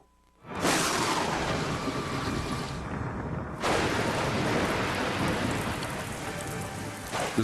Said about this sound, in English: The storm is releasing a deluge of water that rushes through the narrow sewers at enormous speed.